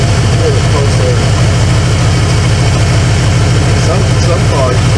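A 1995 Ford F-150 barn find with dual exhaust and a punched-out muffler side idles loudly and steadily nearby, a low rhythmic engine pulse filling the scene while someone talks.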